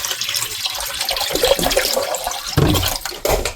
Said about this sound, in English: we're going to put a gallon of spring water down in here.